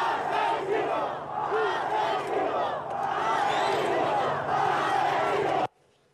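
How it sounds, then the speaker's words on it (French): A large crowd chants and boos loudly and continuously in an angry outdoor protest, the roar steady before cutting off abruptly near the end. "écoutez ce que scandait la foule"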